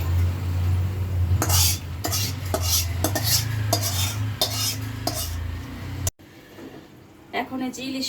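A metal spoon scrapes and clinks against a pan and bowls while cooked korma and hilsa fish do-peyaja are served out. The clatter comes in a repeated rhythm over a steady low stove hum, with someone talking, and the hum cuts out abruptly near the end.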